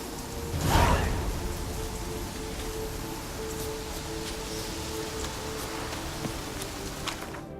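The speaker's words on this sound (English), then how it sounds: "Oh, it's drizzling." Light drizzle falls in the fantasy video game The Witcher 3, a soft, steady hiss of rain throughout with a brief louder swell near the start, no talking.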